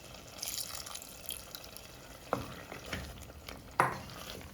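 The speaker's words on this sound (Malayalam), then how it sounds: "കറിയുടെ വെള്ളമൊക്കെ വറ്റുമ്പോഴേക്കും നമുക്ക് കുറച്ച് തേങ്ങാപ്പാൽ ഒഴിച്ച് കൊടുക്കാം" Coconut milk poured into a simmering chapati-side curry, a soft liquid splash and bubbling stir under steady background hiss, with a few louder pouring bursts near the end.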